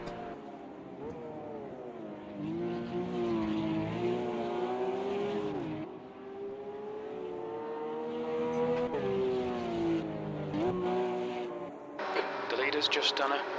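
GT1 race cars lapping Historic Spielberg in the Automobilista 2 racing game, engines droning and revving steadily through gear changes, with brief tyre squeal and a louder burst near the end.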